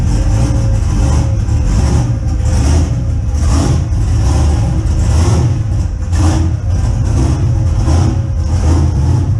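A turbocharged LS3 V8 swapped into a Pontiac Fiero runs loud and steady close by, its engine note rising and falling through repeated revs as the car pulls away and drives off.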